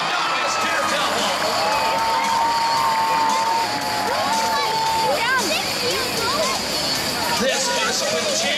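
A circus crowd cheers and applauds for a young daredevil leaving a stunt cage, a loud continuous hubbub of voices and shouts with whistles rising over sustained clapping.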